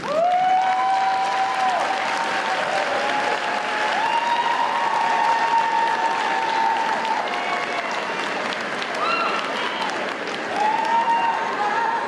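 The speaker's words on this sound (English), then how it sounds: "stand and give all of your support a great round of applause for what they have done to you" Sustained audience applause fills a commencement ceremony hall, a dense, steady wash of clapping from a large crowd that holds for the full span, with a voice briefly speaking over it.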